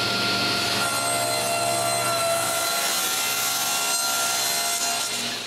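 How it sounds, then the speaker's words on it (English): A homemade wooden bandsaw cuts through wood with a loud, continuous rasping whir, close and steady for several seconds before easing slightly at the end, with no talking. "But now I have a nice saw, and it's working great."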